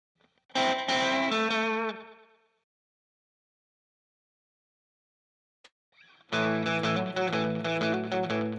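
An electric guitar plays a loud distorted chord that rings and fades, followed by silence, then another burst of heavy, rhythmic strumming.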